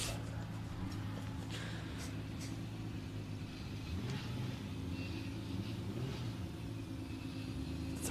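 A BMW and a Nissan drift car battling in a Pro 2 round of the British Drift Championships at Driftland, heard as a continuous distant engine rumble and drone, steady and fairly faint throughout.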